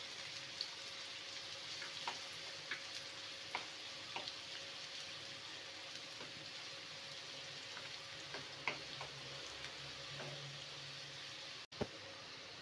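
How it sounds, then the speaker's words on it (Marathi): Finely chopped onion sautéing in hot oil in a home kitchen, giving a soft, steady sizzle with scattered light pops and crackles throughout, fairly quiet and with no talking. "तो चांगला कांदा परतेपर्यंत, जरा ब्राऊन होईपर्यंत कांदा परतून घेते"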